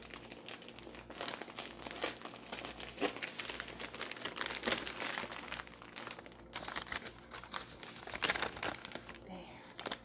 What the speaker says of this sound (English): there's going to be a little bit of crinkling